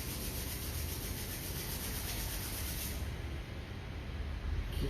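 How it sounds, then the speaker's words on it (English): Steady dry rubbing of palms together during a quiet yin yoga session, a continuous close, soft friction hiss with no talking. "Rubbing your palms."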